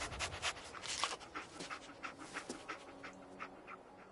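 A dog in a PlayStation 4 video game pants and sniffs in quick, breathy bursts at close range, with no voices over it.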